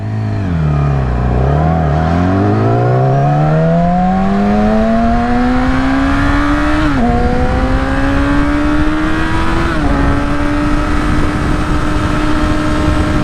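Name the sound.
2016 Yamaha R6 motorcycle riding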